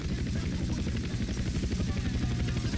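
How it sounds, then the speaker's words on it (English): Helicopter lifting off in the video game GTA San Andreas, a steady close rotor thrum with a low pulsing beat that holds for about three seconds, with a voice talking over it. "Helicopter takeoff."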